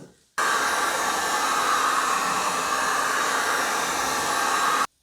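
Heat tool blowing on the side mirror of a BMW E90, a steady loud hiss of hot air that switches on abruptly, holds evenly for about four seconds, then cuts off.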